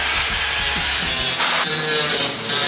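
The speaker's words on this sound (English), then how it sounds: "Make this really sharp glory hole into a nice smooth glory hole." A tool rasps steadily and loudly against the sharp edge of a hole cut for a diesel heater install, a continuous abrasive grinding with small shifts in pitch and no pauses.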